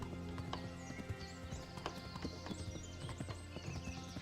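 Horse hooves clip-clopping at a steady riding pace in the medieval video game Kingdom Come Deliverance, with faint whinnies and game music underneath, moderately loud and continuous.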